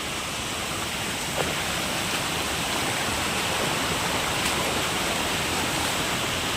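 Damakol waterfall in Jharkhand: a dense, unbroken roar of falling water, close and loud, steady throughout with no voices.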